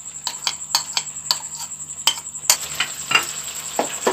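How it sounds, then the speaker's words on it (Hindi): A spoon works through cream being stirred into alfredo sauce in a pan over a low flame, with a steady run of close, evenly spaced scraping strokes and a soft sizzle underneath. "क्रीम ऐड कर दी है, अब हम इसे अच्छे से मिक्स करेंगे।"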